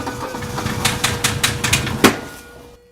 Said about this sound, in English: let's fire this engine up